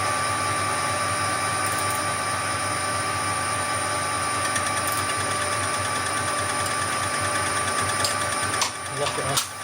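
A Harrison milling machine hums steadily and loudly as its saddle is moved in, a continuous mechanical drone with faint clicks and a small clunk near the end.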